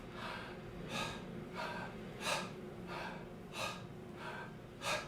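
Breathwork session with repeated mouth breathing, six airy breaths of fairly even rhythm about a second apart, each a soft rushing whoosh, close and quiet.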